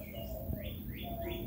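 Birds call at a lakeside bird blind where white-winged doves and cardinals gather: a steady low dove coo runs under a series of rising, whistled chirps repeating in quick succession, close and clear with no talk.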